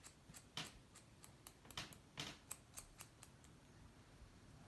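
Scissors snip through a hair fringe while cutting in a layer, giving a faint, close series of sharp irregular clicks and snips spaced unevenly across a quiet room, with no talking.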